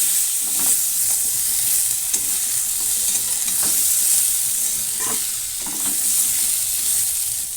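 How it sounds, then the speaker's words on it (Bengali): Chopped kohlrabi and cauliflower fry in oil in a pan, a loud, steady sizzle close up, broken by several soft scraping stirs of a spatula. "এরপর দিয়ে দিচ্ছি কেটে রাখা ওলকপি ফুলকপিটাকে দিয়েও ভালো করে ভেজে নেব"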